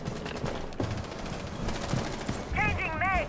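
Rapid bursts of gunfire in a tactical shooter video game, dense crackling shots throughout, with a brief metallic ringing near the end while a player talks over it.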